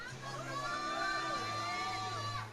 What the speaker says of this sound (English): Her supporters in the crowd just cheering her on.